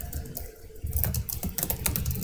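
Rapid close clicking of keys on a computer keyboard while entering code, irregular bursts of keystrokes over a quiet room background, no speech.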